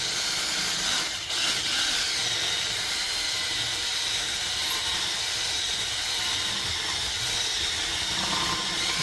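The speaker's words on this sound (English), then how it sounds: "Let the drill bit just do what it's going to do." Drill bit boring out a rear axle bushing on a 1993 Mustang Cobra 8.8 rear end, a continuous harsh whine and grinding hiss held steady and close throughout.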